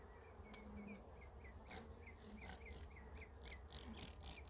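Honey bees drone quietly around an opened hive during an inspection, a faint steady buzz broken by small repeating chirps and brief louder passes.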